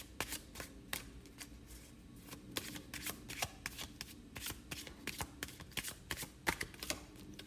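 A deck of tarot cards is shuffled by hand, giving a continuous soft riffling and slapping patter that is close and quiet, with no talk.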